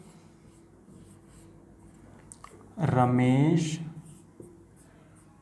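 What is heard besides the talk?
writing by hand during a lesson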